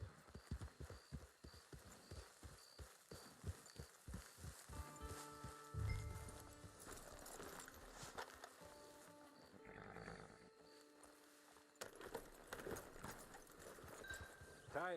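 Steady clip-clop of horse hooves at a walking pace in Red Dead Online, with game music tones and scattered voices layered over the hoofbeats.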